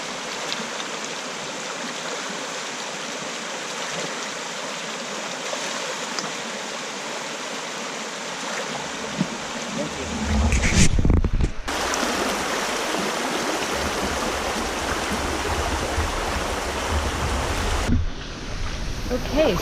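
Water rushes steadily along a river during a hike in Ecuador, a broad continuous hiss close by that grows louder and rougher partway through, with brief breaks in the flow.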